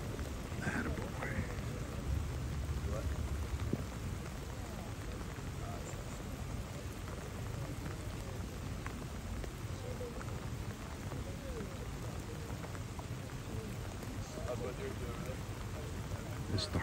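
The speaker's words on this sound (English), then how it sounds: "It's the hardest rain we've had all day." Steady heavy rain pours down continuously, a dense hiss with low rumbling underneath and occasional faint voices.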